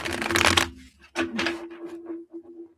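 Tarot cards being shuffled by hand, a long crisp riffle followed by a second shorter burst and softer settling shuffles, close up with no talk.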